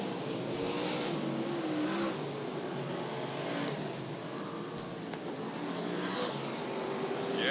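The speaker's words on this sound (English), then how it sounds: "Morris Yardley, Peter Britton as they go across the start-finish line." V8 dirt modified race cars cross the start-finish line at Archerfield Speedway, engines roaring loud and continuous as several cars pass close by.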